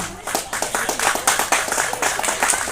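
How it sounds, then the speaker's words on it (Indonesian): An audience at an outdoor National Santri Day assembly claps for the children, a dense stretch of many hands clapping together, fairly loud and close, with some voices mixed in. "Kita ucapkan aplaus kepada mereka semuanya."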